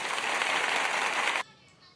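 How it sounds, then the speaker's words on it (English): An applause sound effect plays as a dense, even burst of clapping for about a second and a half, then cuts off abruptly into a quiet room tone. "Yeah, applaud that."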